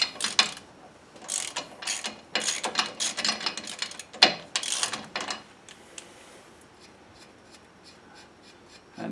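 A hand ratchet clicks in quick bursts, tightening a wheel back onto a 2004 GMC Sierra 1500 truck during a brake job. The close, dry pawl clicks come in uneven runs with short pauses, then taper off into quieter handling noise.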